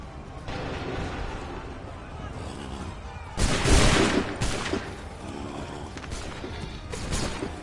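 Musket volley gunfire in Assassin's Creed III, a dense crackling burst of massed shots erupting midway, with scattered reports before and after over a constant battlefield din.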